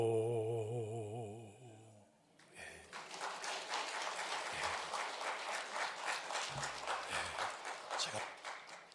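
A church congregation claps together in a steady, rhythmic beat, loud and sustained across a large room, following a brief sung or spoken phrase at the start.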